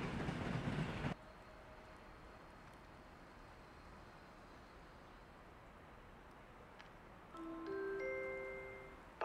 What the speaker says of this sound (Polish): Pociąg SKM linii S2 ze stacji Sulejówek Miłosna do stacji Warszawa lotnisko Chopina jedzie na tor